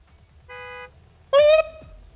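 A car horn in the video game Gas Station Simulator sounds twice. A short steady beep comes first, then a louder, harsher blast about half a second later, both alone against quiet background noise.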